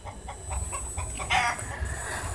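Chickens cluck repeatedly in a farmyard as a story sound effect, a run of short rhythmic clucks over a steady low background, fairly close and moderately loud, with no talking.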